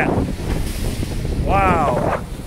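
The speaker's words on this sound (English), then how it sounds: "it looks like the waves are coming in hot" Ocean waves crash on the rugged Oregon coast near sea caves in a loud, continuous roar of surf mixed with wind buffeting the microphone, and a short voice cuts through near the end.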